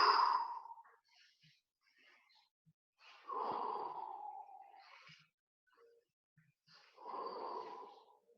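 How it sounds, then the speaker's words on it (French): Slow, relaxed breaths during a relaxation exercise: three long, airy exhalations spaced a few seconds apart, close and fairly quiet, with faint softer breaths in the pauses. "Je respire."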